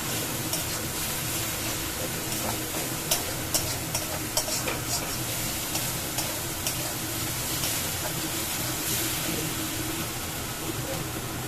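Pointed gourd and fried soybean pieces sizzle in a pan of spice masala, a steady loud frying hiss with intermittent clicks and scrapes of stirring throughout.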